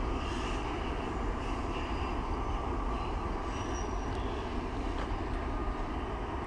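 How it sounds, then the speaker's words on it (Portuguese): A locomotive's dynamic brake drones continuously nearby as a train brakes on a downhill grade, a steady, loud mechanical roar with a constant low rumble. "Barulho do freio dinâmico."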